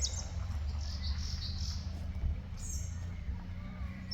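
Bulbul chirps outdoors near a river, bright high calls over a steady low rumble of water and wind, with faint insect-like hiss throughout.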